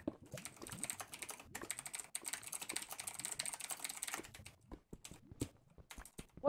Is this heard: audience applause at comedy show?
no